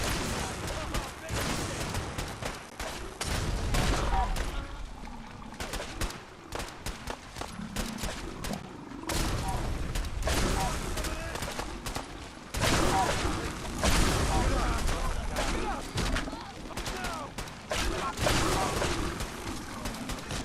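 Bursts of gunfire during a fight with Gulpers in Fallout 4 Far Harbor, rapid volleys of shots cracking in irregular clusters amid combat noise, moderately loud throughout.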